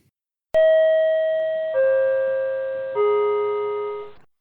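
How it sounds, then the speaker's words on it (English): A three-note electronic subway chime rings out clearly, each tone sustained and slowly fading, descending in pitch before trailing off. "Subway chime, go."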